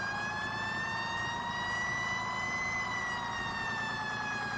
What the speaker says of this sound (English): we do have our lights and sirens on